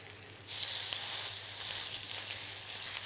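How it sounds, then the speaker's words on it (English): Meat patties sear in oil in a pan over high heat, a steady close sizzle that jumps louder after a brief quieter start and holds for about three seconds with no talking. "I've got it on quite high heat, this pan, just to get that initial sort of instant sear of the meat"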